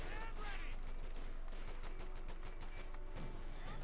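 Heavy gunfire in Company of Heroes 2, with German forces laying down sustained fire in a Western Front battle, rattles densely and continuously through the whole stretch, with scattered sharp reports over a steady roar.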